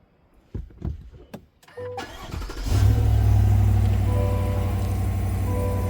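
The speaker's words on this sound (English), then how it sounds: "I'm going to stop the vehicle and restart it" A 2025 GMC Yukon Denali falls quiet after a few soft clicks and knocks, then its engine cranks and starts, settling into a steady, close idle rumble that continues to the end.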